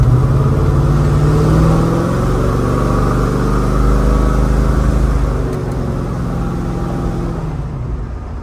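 A 1969 Chevrolet Chevelle's engine rumbles steadily from inside the car while driving on a quiet road, a continuous close hum with tire roar that eases slightly toward the end.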